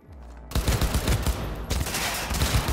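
Automatic gun firing in Cyberpunk 2077, loud rapid bursts of close, rhythmic shots with a brief break between two strings of fire.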